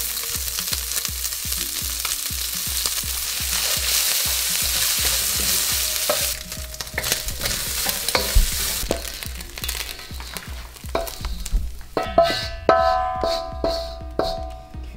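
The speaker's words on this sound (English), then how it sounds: "I'll add in just a little bit more oil to help the liver fry" Liver sizzles steadily in hot oil in a pan while a utensil stirs and scrapes it in a rapid rhythm; toward the end, sharper clinks and clatter break through the frying.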